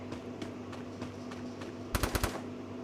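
Gunfire in the mobile battle-royale game Free Fire: a quick burst of four sharp shots near the end, rising clearly above a quiet, low background of softer earlier pops.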